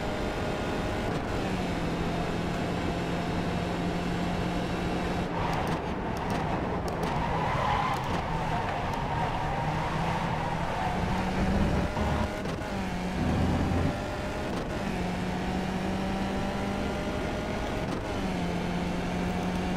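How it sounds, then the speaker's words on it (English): Race car engine in a sim racing game at Spa, a steady droning tone with gear-shift steps and occasional skid-like bursts, running continuously at moderate level. "Car could be a little louder."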